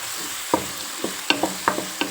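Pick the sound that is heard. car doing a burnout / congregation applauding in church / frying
frying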